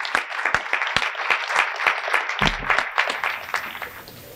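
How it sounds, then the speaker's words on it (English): Audience applause at an American Indian writers' award ceremony in Oklahoma, a fairly small crowd clapping in a steady patter with distinct individual claps standing out, fading toward the end. "Let's give those individuals a round of applause,"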